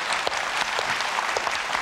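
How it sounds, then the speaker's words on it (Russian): Audience applause at a televised singing contest, a short burst of steady clapping from a studio crowd, moderately loud and without voices. "Аплодисменты."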